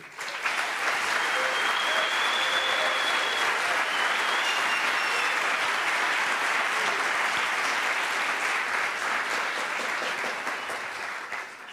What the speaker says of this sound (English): I would say maybe a big round of applause for the organizers